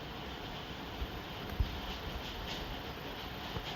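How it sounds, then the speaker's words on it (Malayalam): Train rolls along in the video game Indian Bike Driving 3D, giving a quiet, steady rumble with a few soft clacks of the wheels. "ഈ ട്രെയിൻ അത്ര സ്പീഡില്ല."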